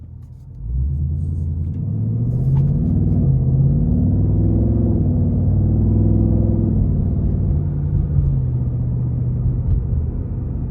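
A Ford Mustang Dark Horse V8 rumbles as it pulls away and drives, a loud, deep engine note that swells within a second, with rising and falling gear pulls and no talking.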